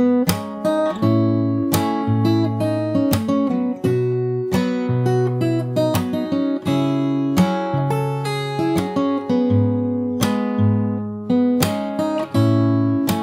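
Fingerstyle acoustic guitar picks out the pre-chorus of a song, alternating bass notes and bright plucked chords in a steady rhythm, played close and alone with no talking.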